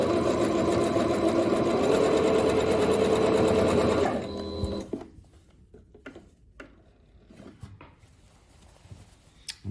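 A sewing machine stitches over the seam allowances of a shirred-waist pant, a steady whirring run for about four seconds before stopping, leaving quiet handling sounds.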